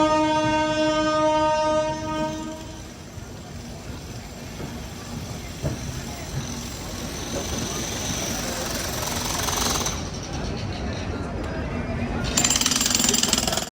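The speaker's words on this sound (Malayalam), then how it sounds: "ട്രെയിൻ ഇതാ ഇത്താർസി ജംഗ്ഷൻ റെയിൽവേ സ്റ്റേഷനിലേക്ക് എത്തിക്കൊണ്ടിരിക്കുകയാണ്" A passenger train rolls into Itarsi Junction railway station, opening with a long horn blast, then continuous rumbling and clattering of wheels and wagons with hissing brakes, loud and close throughout.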